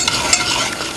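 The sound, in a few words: whisking butter, sugar and heavy cream in a pot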